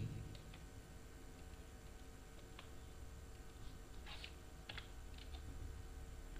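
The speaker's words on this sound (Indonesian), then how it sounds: "Ketikkan skrip open event aplikasi, copy paste dari panduan PAG." Script is typed on a computer keyboard in a short run of faint, scattered key clicks, some in small clusters, over a steady low hum with no talk.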